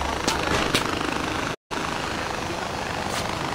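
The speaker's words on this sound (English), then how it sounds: "if you've got a helicopter, might as well use it." A helicopter flies in the video game Far Cry 4, a steady, dense rotor-and-engine roar that holds at one even level, cutting out for a split second midway before resuming unchanged.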